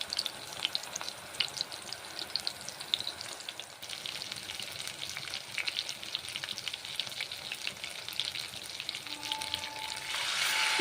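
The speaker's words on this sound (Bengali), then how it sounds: "মশলা বেটেছি, ভেজে নিচ্ছি গরম তেলে।" Ground spices fry in hot mustard oil in a pot for dal, giving a continuous soft sizzle and crackle with occasional stirring scrapes that swell louder near the end.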